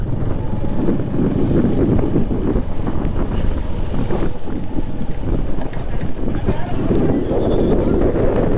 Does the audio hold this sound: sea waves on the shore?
yes